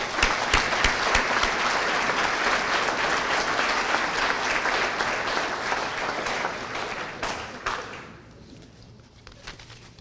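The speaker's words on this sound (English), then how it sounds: "let's give them a large round of applause" Dinner guests at a college foundation's annual banquet applaud, a full dense round of clapping holding steady for several seconds before thinning out to a few scattered claps near the end.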